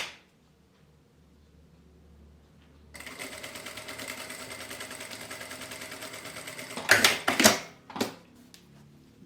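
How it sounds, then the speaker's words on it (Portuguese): Sewing machine stitching a fabric pencil case with a lace trim, a steady mechanical whir running for several seconds, then a few louder, sharper bursts toward the end. "vou costurar com margem de meio centímetro"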